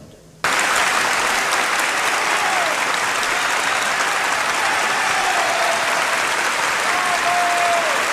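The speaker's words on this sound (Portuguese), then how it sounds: "Ele foi recebido de pé em uma das maiores ovações da história do Oscar" A standing ovation at the Oscars for Charlie Chaplin: after a brief quiet moment, loud, dense applause from a large audience erupts and holds steady throughout.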